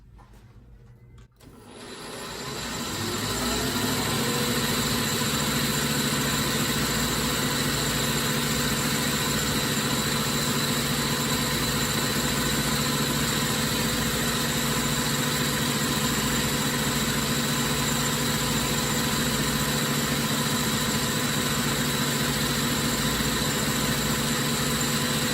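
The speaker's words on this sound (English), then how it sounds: "Let me turn the lathe on." A metal lathe starts up and spins up to speed, then keeps running with a steady mechanical hum and whine that stays constant and fairly loud, with no voices.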